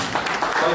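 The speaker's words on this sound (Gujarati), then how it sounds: "આપણે સૌ તેઓને તાળીઓના ગણગણાટથી વધાવીએ" Dense, steady applause from an audience at a Lions Club general meeting, loud and close, filling a brief moment without a break.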